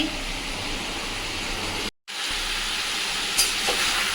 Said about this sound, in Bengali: চিকেনটা ভাজছি